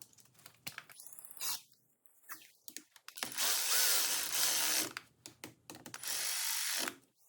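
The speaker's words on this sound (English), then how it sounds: "Go to that little ratchet. I'll just tighten it up right there." A ratchet tightens a bolt on a Husqvarna 450 Rally motorcycle, a close, clear series of rapid clicking pawl bursts in several strokes, separated by short pauses.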